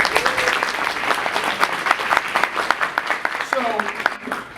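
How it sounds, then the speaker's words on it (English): Audience applause following a motivational talk by an entrepreneurial mindset coach, dense and steady with a few louder claps and a brief cheer, with some voices underneath. "I want you to give yourself a round of applause"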